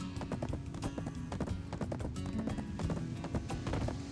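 Rhythmic horse hooves clip-clop in a video game, a steady run of close, evenly spaced hoofbeats over a dense layer of game sound.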